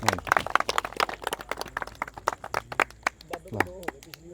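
Audience at a live Punjabi stage show clapping in a burst of scattered, uneven claps, mixed with some crowd voices.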